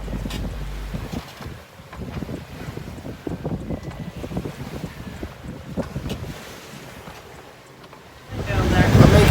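Steady wind and water rush around a sailboat under sail at sea, with gusty buffeting on the microphone and a louder surge of wind near the end.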